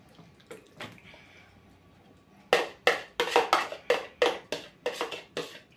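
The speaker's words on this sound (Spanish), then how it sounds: "Y voy a echar todo el ingrediente dentro" Ingredients poured into a standing silicone bag: a few soft taps early on, then a run of about nine loud, rhythmic splashy pours and knocks close by, with no speech.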